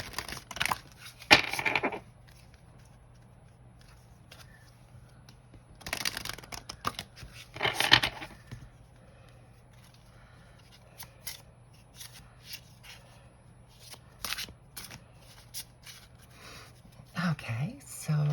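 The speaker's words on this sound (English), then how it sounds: "they are shuffling really beautifully, and that's because of the stiffness of the cards, that they really bounce a lot" Stiff tarot cards shuffled in several brisk bursts of riffling and bouncing, close and crisp, separated by quiet stretches with faint soft handling noises.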